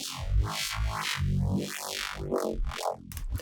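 Growling bandpass-filtered neuro bass synth with sweeping, vowel-like filter movements, repeating in a rhythmic pattern, loud and gritty with no voices.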